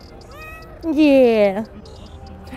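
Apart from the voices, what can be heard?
cat meowing on an Istanbul street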